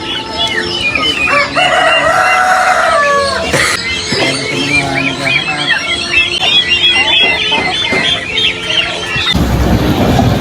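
Several roosters crow loudly and repeatedly close by in a small backyard poultry space with chickens and turkeys, overlapping calls mixed with clucking and squawks, and a rustling scuffle near the end.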